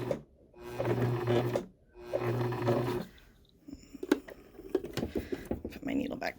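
A sewing machine stitches a patch onto ripped denim jeans in two steady, close bursts of whirring, then stops for clicks and handling noises as the fabric is repositioned.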